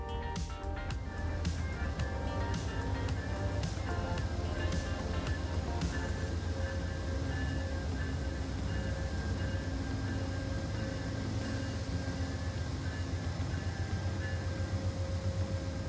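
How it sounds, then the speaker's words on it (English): Amtrak Vermonter passenger train slowing to a stop at Springfield station in frigid winter weather, a steady low rumble with faint squeals and clanks that settle into a continuous hum. "As our train comes to a stop,"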